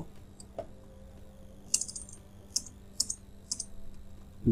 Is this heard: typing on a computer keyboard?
yes